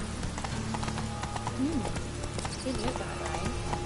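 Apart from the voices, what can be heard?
horse hooves clip-clopping, Roach in The Witcher video game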